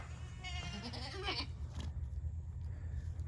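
A mother goat gives one loud, wavering bleat nearby, followed by quieter rustling and low background rumble.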